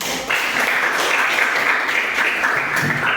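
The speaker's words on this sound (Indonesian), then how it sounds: "Baik, berikan aplaus." A classroom of students claps together, a dense burst of applause that starts abruptly and holds steady for a few seconds before tapering.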